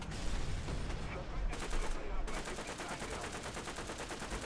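Tank combat in War Thunder with rapid machine-gun bursts firing at a Soviet KV-1E heavy tank, dense repeated cracks and sharp rattling reports, fairly close and loud, in a steady rhythmic stream toward the end.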